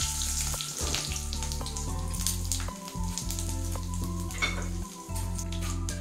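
Whole spices sizzle in hot oil for a fish curry with potato, peas and cauliflower: bay leaf, a dried chilli, cumin seeds and cloves. A continuous hiss of frying runs under loud background music, with brief dips.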